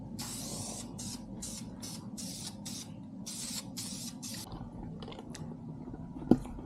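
A spray can sprays a second coat of black paint on a BMW E36 drift car in a rapid series of short hissing bursts, about a dozen, close by, then quieter fainter puffs.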